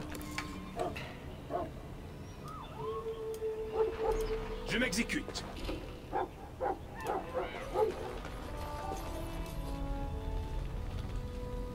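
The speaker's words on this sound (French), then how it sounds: "Ah, j'entends mon chien." A dog in the fantasy role-playing game Dragon Age: Origins barks, yips and lets out a whining howl close by. The calls come in short, irregular bursts, and a person talks briefly over them.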